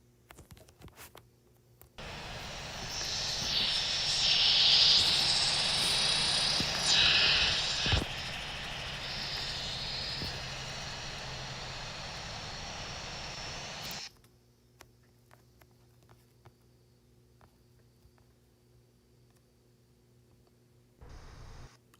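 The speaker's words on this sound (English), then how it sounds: "Loud reverse thrust, yeah." Airliner reverse thrust on landing in the flight simulator game Infinite Flight, a United 737-700: a loud broad roaring hiss that swells, then cuts off abruptly, leaving faint low hum.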